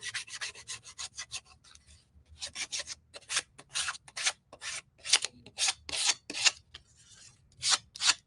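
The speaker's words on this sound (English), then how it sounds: "So I'm going to do some sanding." Rhythmic scratchy strokes of sandpaper rubbing the edges of a wooden shiplap heart, quick bursts in a steady back-and-forth pattern with short pauses between passes, close up.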